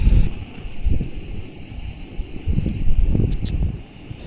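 Wind buffeting a microphone at a valley wild camp, a steady low rumbling roar with gusty swells, close and fairly loud, with no talking.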